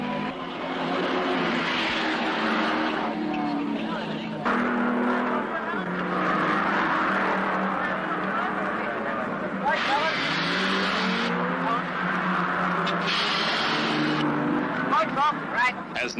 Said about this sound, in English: Des West's 4-barrel pacer flashes past to take over the lead